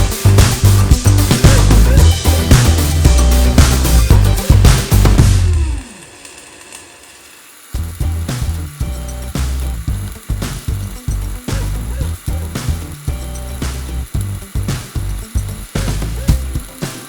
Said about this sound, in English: I'll try running a stringer bead uphill.